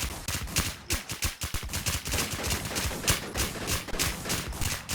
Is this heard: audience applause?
no